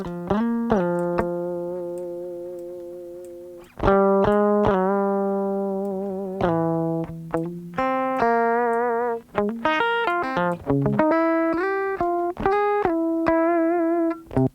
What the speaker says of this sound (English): this is what it sounds like with and without the compressor